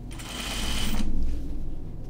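Serger stitching the seams of Burnside Bibs, a fast whirring run of about a second that builds and then stops, followed by quieter handling of fabric, close to the machine.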